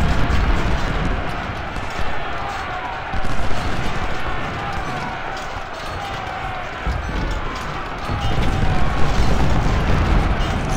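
Cannon artillery fire in the Civil War strategy game Ultimate General: Civil War, rumbling booms of a battle continuing under dense, loud battlefield noise for the whole stretch, with heavier swells of blasts near the middle and end.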